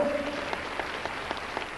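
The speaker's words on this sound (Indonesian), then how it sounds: "Tepuk tangan untuk Tuhan Yesus Kristus" Congregation applause at a church service, a brief, moderately quiet wash of steady clapping with a held sung or spoken tone fading at the very start.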